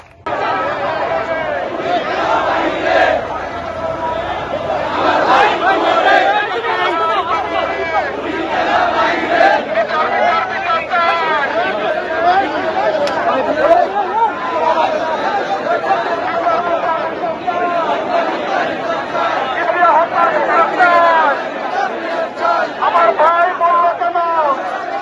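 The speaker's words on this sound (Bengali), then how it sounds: "এক বিশাল মিছিল বের করেন এবং সেই মিছিল থেকে তারা স্লোগান দিতে থাকেন" A large Jubo Dal protest march in Mirpur, with a dense crowd chanting slogans loudly and continuously in rhythmic call-and-response, voices overlapping throughout.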